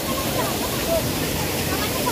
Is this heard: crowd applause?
no